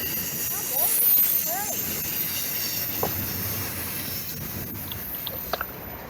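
A long intermodal freight train rolls past at a distance, a steady low rumble and hiss with occasional faint wheel squeals and clicks, no voices present.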